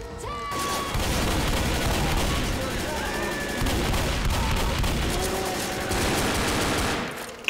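Continuous heavy gunfire in Left 4 Dead during a sewer level fight against a Witch and a Tank, loud and dense with rapid shots filling nearly the whole stretch, with faint voices underneath.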